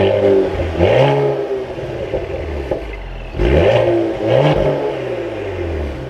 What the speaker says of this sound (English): let's fire this back up and take a listen to this Cadillac